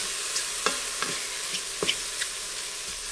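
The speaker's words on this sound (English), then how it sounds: "we're going to add that garlic, and we're just going to let the two saute together" Mushrooms and minced garlic sauté together in an Instant Pot, a soft continuous sizzle broken by several light utensil taps and scrapes as the food is stirred.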